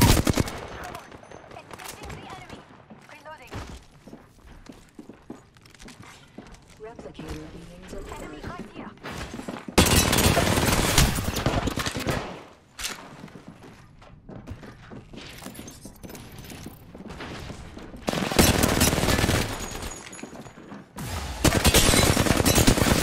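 Automatic weapon fire in the Apex Legends Firing Range, with bursts of rapid gunshots alternating with quieter stretches of mechanical clicks and handling, plus game voice lines between volleys.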